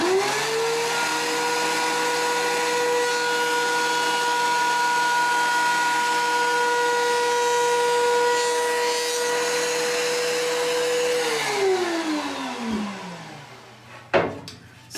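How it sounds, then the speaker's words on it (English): A power planer runs steadily through a black walnut and resin board with a loud, constant whine and motor drone, then spins down and stops near the end, followed by a couple of sharp knocks. "So we just got done planing this."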